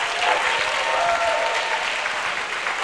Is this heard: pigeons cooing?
no